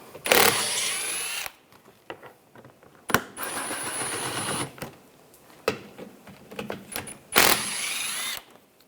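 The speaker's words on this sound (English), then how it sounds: "Back here, I'm using a 10mm socket. Take these bolts out." Bolts being backed out with a 10mm socket wrench while replacing fog light bezels on a 2013-2016 Dodge Dart, heard as bursts of close metallic ratcheting and whirring, with clicks and handling noises in the pauses between.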